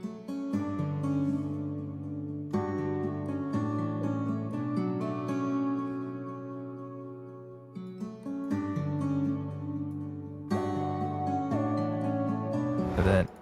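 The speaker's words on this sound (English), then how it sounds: "the last thing I added was lead 3 from my Eternal Analog Lab bank, and that's running into some reverb" A melodic trap loop combines a reverb-soaked analog synth lead from the Eternal Analog Lab bank with guitar, sustained tonal phrases that restart in sections, playing fairly close without voices.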